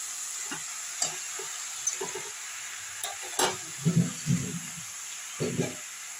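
Spinach is stirred into potatoes frying in a pan in a village kitchen, giving soft intermittent scrapes and clatters over a faint sizzle, with bursts of stirring spaced a second or so apart.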